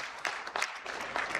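An audience at a health sector engagement and performance dialogue claps in a brief burst of scattered, moderately loud applause with irregular hand strikes.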